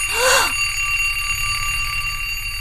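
A loud alarm sound effect rings out in a sharp, bright burst for about half a second, then falls away to a low background hum.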